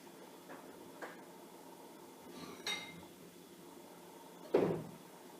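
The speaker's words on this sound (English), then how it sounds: "I'm going to go and get a bowl." Dishes and bowls clink in a kitchen while a bowl is fetched from a cupboard for a strawberry fondue dessert: a few soft knocks, then a sharper clatter near the end, close by with no talk.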